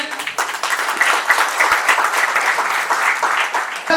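Loud, dense applause fills a company award ceremony hall, many hands clapping steadily for about four seconds without a break, close and sustained.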